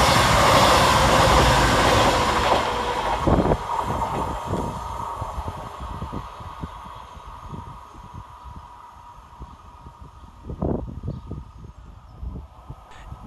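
A Class 221 diesel multiple unit on a CrossCountry Plymouth to Edinburgh service powers through Sandal and Agbrigg station, a loud close roar that fades into rhythmic wheel clatter over the rails as it passes.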